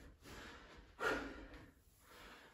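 Heavy, winded breathing after a full-body home workout, a steady huffing rhythm with one louder sharp exhale-snort in the middle, close and fairly quiet, no talking.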